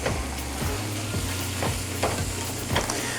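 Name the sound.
tofu scramble frying and being stirred in a pan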